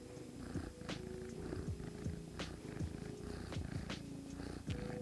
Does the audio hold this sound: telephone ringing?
no